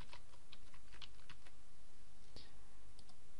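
Someone types a search term on a computer keyboard, a run of quick light key clicks in a brief burst with a couple of isolated taps after, over a steady background hum.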